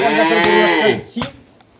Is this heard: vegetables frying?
no